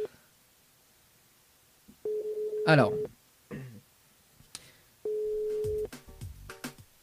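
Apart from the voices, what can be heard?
telephone ringing tone while calling a listener on her mobile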